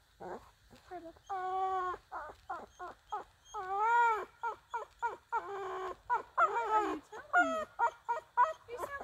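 A dog whines and yips in rapid, rising and falling bursts during a tug game, squeaky cries coming close and repeatedly over several seconds with little pause.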